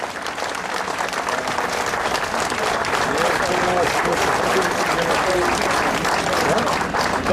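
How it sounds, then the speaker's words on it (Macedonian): Sustained crowd applause at an outdoor VMRO-DPMNE pre-election political rally on a town square in Karpoš, Macedonia, greeting the party leader; dense, steady clapping with some crowd noise throughout, no break. "ве молам еден голем аплауз за председателот на ВМРО ДПМ и иден премиер на Република Македонија"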